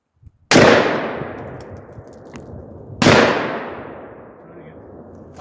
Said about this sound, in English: we're gonna shoot three more at that rim